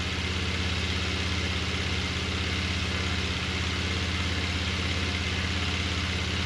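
An engine that had sat abandoned outdoors for a year idles steadily with its idle raised slightly, a loud, continuous, even drone with a low throbbing vibration and no voices.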